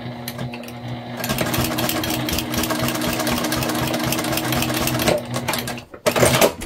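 Sewing machine running steadily while re-stitching a missed seam on a beginner bag, a continuous loud mechanical whir with rapid needle rhythm, briefly pausing near the end then restarting.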